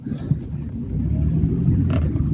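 A 2007 BMW 320i 2.0 automatic engine rumbles steadily from inside the car while driving, with a low droning hum and no speech.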